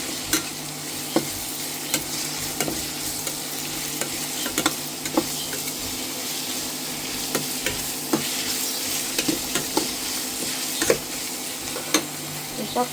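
Sorghum flour pudla cooking in a hot pan, a steady close sizzle with faint scattered ticks and scrapes continuing throughout, no talk.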